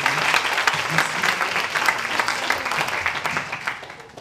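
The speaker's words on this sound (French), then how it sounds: "parmi nous, on l'applaudit" An audience applauds at an evening awards ceremony, a steady, moderately loud patter of many hands clapping that continues evenly throughout.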